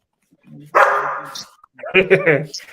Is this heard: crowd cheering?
no